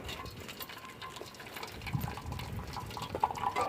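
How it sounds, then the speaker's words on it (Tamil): Water pours and splashes steadily as it is drained from boiled tapioca, a close, continuous gush with a few brighter trickles near the end. "தண்ணி வடிச்சுக்கலாம்"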